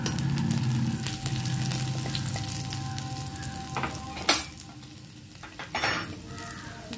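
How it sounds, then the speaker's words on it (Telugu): Finely chopped garlic frying in oil in a pan for chilli paneer, with a steady sizzle that fades, followed by a couple of sharp metallic clinks of a utensil against the pan. "ఇప్పుడు అదే ప్యాన్లో కొంచెం నూనె ఉంచుకొని వెల్లుల్లిపాయ ముక్కలు వేసుకోవాలి, సన్నగా తరిగి."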